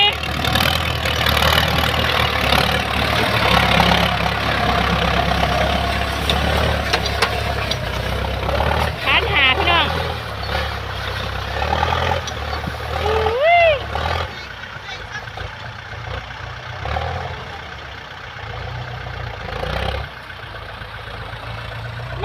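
A Ford 6610 tractor engine runs steadily at a low, rumbling idle, with voices talking loudly over it and a few brief high squeaks near the middle.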